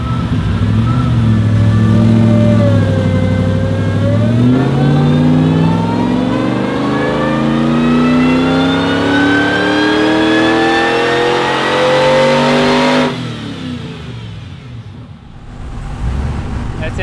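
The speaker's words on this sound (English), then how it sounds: "just do a power run and see what it does on the hub dyno" A car engine of over 650 horsepower revs loudly on a hub dyno, climbing steadily in pitch for about thirteen seconds under load, then cuts off abruptly and winds down.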